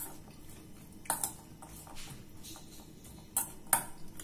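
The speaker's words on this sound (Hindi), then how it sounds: "मसाला अच्छे से मिक्स कर लीजिए" Spoon clinking against a bowl while aloo kabli, a Kolkata street-style potato chaat, is tossed with masala; a few faint, sharp metallic taps and scrapes stand out over a quiet background.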